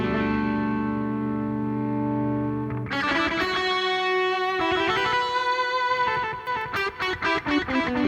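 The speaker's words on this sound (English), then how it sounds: "So, for example, here's some delay." Electric guitar runs through a delay effect on a Boss WAZA Tube Amp Expander into a 4x12 cabinet simulation: a sustained chord rings out, then picked notes repeat in echoing trails, loud and alone.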